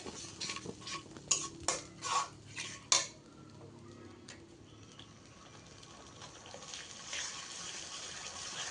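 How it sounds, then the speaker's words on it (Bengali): Prawn bhuna with turmeric and chili being stirred in a pan. A burst of metallic spatula clinks and scrapes comes first, then fades to a faint, low sizzle, with no voices. "এবার এটিকে ভালো করে কষিয়ে নিতে হবে"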